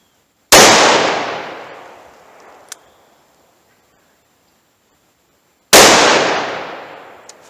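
Two sharp, loud revolver shots from a Taurus 605 ring out several seconds apart outdoors, each a sudden crack followed by a long fading echo.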